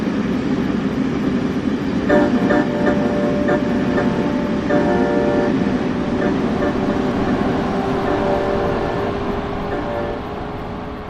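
Electric Class 700 multiple unit running on the Brighton Main Line in Train Sim World 3, a steady loud rumble and rolling drone throughout with sustained tonal whine layers rising in the middle, easing slightly at the end.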